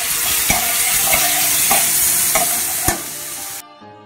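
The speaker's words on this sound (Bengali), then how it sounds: "একটু খালি নাড়িয়ে নেব।" Washed Gobindobhog rice is stirred in a hot pan for payesh, a loud steady sizzle punctuated by regular spoon knocks against the metal, ending abruptly.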